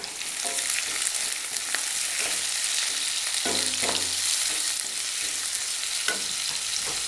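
Green chillies and ginger-garlic paste sauté with onions in hot oil for chicken Mughlai, a loud, steady close sizzle with a few soft stirring knocks and no talking.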